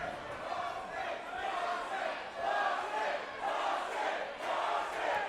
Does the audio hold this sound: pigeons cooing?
no